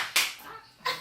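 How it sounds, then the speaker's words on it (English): A group clapping at a casual gathering, with a sharp clap near the start and another near the end, some soft murmuring in between. "What he really wants is one clean clap"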